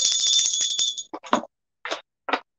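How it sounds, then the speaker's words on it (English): A small bell rung during an online clothing sale, a bright ringing tone that sustains for about a second and then fades, followed by a few short scattered knocks and rustles. "Do I ring the bell?"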